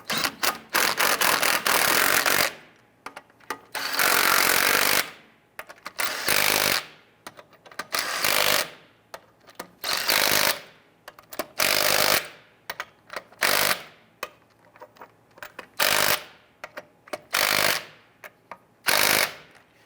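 Lug nuts being snugged down on a 1994-2004 Ford Mustang front wheel with a power impact tool, loud close bursts of rattling hammering repeated about a dozen times with short pauses between.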